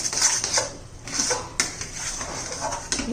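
A spoon scrapes and knocks against a pan as a carrot barfi mixture of grated carrot cooking down is stirred. The clinks and scrapes come close and clear in an uneven rhythm, with no voices.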